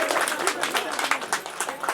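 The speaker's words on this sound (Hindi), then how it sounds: "सभी स्वागत करें, तालियां बजाकर सभी स्वागत करें।" Steady applause from an audience at a Devi Bhagwat Katha religious gathering, a dense patter of many hands clapping with a voice speaking over it.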